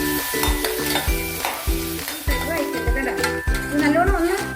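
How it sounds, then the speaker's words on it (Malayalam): Finely ground masala paste and turmeric powder frying with browned onions in oil for a beef and beans curry, steady sizzling with repeated stirring scrapes and clinks of a spoon against the pan, close up. "ഈ മഞ്ഞൾപ്പൊടിയും ഈ മസാലയും പാടെ നല്ല മൂക്കണം."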